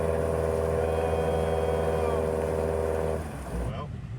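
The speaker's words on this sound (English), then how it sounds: "The car's still running though." A car's engine idles with a steady low hum while the car sits stuck ankle-deep in a lake, then quiets near the end as water splashes.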